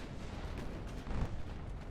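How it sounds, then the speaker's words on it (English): Torpedo detonations in the naval game Ultimate Admiral Dreadnoughts, a continuous low rumbling boom with a slightly louder swell midway, dense and heavy throughout. "Or torpedo detonations, I should say."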